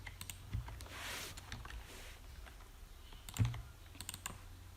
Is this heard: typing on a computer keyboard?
yes